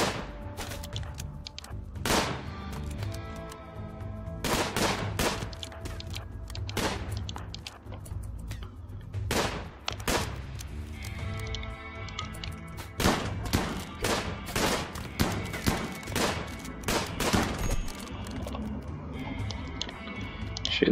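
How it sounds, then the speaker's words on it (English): Sharp, close gunshots in a RimWorld fight, a pump shotgun among them, firing irregularly through a long exchange with quieter crackling in between and no talk. "Oh, is that a pump shotgun?"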